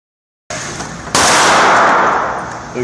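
An M4 rifle fitted with a red dot sight is fired at a 20-yard outdoor range. After a sharp click comes a single loud, close report with a long, decaying rumble.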